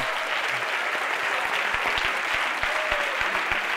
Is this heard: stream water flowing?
no